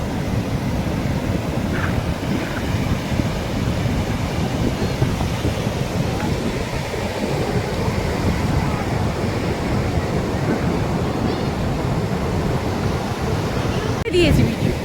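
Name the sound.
ocean waves breaking at Puri beach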